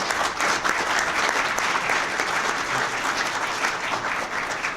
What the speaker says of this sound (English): I'd like to have a round of applause for our participants.